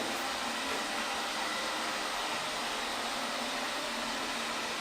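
A Xiaomi Roborock S50 robot vacuum cleaner runs indoors with a steady, even broadband whir and hiss, close and continuous with no breaks or voices.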